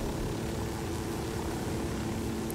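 Steady loud rotor and engine drone of a helicopter in the video game Ghost Recon Wildlands, a continuous dense whir filling the whole stretch with no talk.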